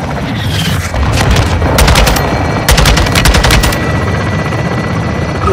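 Rapid automatic gunfire in Call of Duty: Modern Warfare 2 rattles out in two loud sustained bursts over a constant low rumble of battle and engine noise.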